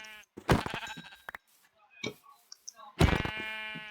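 Synthetic sheep bleats ring out twice in a survival video game, loud and close, with a few clicks and faint game noises in between.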